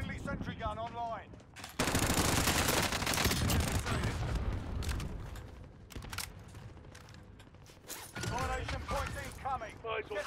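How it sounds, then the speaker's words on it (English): A sentry gun fires sustained automatic bursts in the Call of Duty Warzone video game, loud rattling volleys with mechanical clatter, while a voice talks at the start and end. "Friendly sentry gun online."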